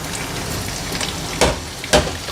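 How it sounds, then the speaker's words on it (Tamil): Ginger frying in hot ghee and oil makes a steady, watery crackle, broken by two sharp spattering pops close together near the end. "எண்ணெயும் நெய்யும் சூடானதும் நம்ம இஞ்சியை சேர்த்துக்கலாம்."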